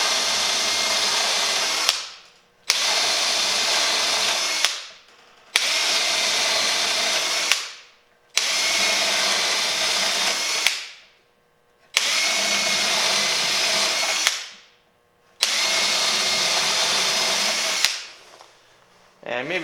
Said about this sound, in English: we'll drill these out to 3/8, starting on the Phillips side